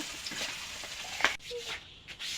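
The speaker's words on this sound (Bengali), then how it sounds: "বাকি মাছটা আমি উল্টে পাল্টে ভেজে নেব" Pieces of pangas fish fry in hot oil in a pan, giving a continuous crackling sizzle with a brief scrape midway as the fish is turned, then the sizzle resumes at a steady level.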